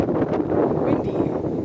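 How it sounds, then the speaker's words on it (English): Strong wind buffets the microphone outdoors beside a field where an electric fence for horses is being set up, a steady rumbling roar with gusty swells throughout and no clear voices. "Windy, very windy."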